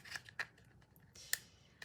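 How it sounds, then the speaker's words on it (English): Scissors snip sharply at hard plastic, a few crisp cuts spaced irregularly, close up with quiet pauses between. "I'm just trying to cut a chunk off of it."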